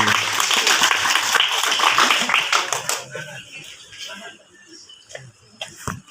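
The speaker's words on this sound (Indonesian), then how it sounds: "tepuk tangan untuk para penyelenggara" Applause for the organizers at an Indonesian thanksgiving gathering, a loud burst of clapping for about three seconds that fades into scattered claps and room murmur.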